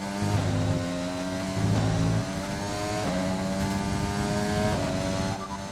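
Formula 1 car engine in the F1 2020 racing game, a loud continuous high-pitched whine with rising gear sweeps and shifts, steady and close throughout with no talking.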